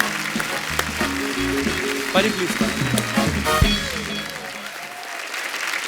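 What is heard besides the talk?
studio audience applause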